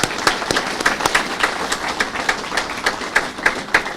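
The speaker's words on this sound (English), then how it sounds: "we'll give her a clap" An audience at an innovation network launch event claps for a few seconds, sharp individual claps standing out in a loose, moderate patter close by.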